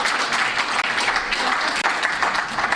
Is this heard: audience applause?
yes